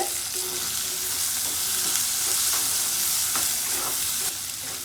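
Onion and ginger sauté in a pan for a mutton curry, producing a dense, loud, unbroken frying hiss with soft stirring strokes close by.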